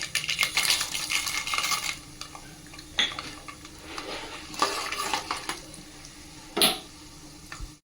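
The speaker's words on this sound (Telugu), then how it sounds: "ఇందులో మినపప్పు శనగపప్పు పల్లీలు మూడు ఉన్నాయన్నమాట ఇవి కూడా ఇందులో వేసేసుకుందాం" Urad dal, chana dal and peanuts go into a hot pan of sizzling mustard and cumin seeds for khichdi upma, with a close spoon scraping and stirring and a few sharp metallic clinks over a steady frying hiss.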